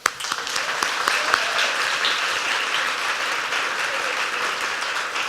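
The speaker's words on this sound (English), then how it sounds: "Round of applause, yeah." An audience at an arts and culture awards ceremony claps warmly, a thick, even patter of many hands that starts abruptly and holds at a steady level for several seconds.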